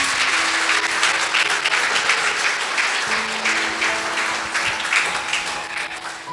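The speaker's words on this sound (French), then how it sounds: "Je vous demande de l'applaudir, s'il vous plaît." Sustained audience applause as a speaker takes the stage at a talk on marriage and celibacy, steady clapping throughout with some crowd noise and sustained tones in the background.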